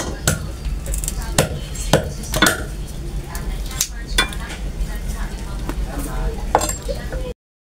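Pili nuts are cut with a series of sharp, irregular chopping knocks against a hard surface, roughly a dozen strikes spread over the stretch, with faint background voices.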